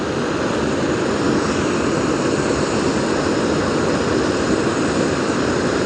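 A camping stove burner roars with a steady, loud, jet-like hiss that never wavers, close up and with no other sounds.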